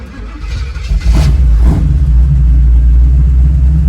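A small-block Chevy 350 V8 in a 1936 Chevy Coupe with an automatic transmission kickdown cable. It gives a loud, deep rumble that swells suddenly after a second and then holds steady and heavy, close up.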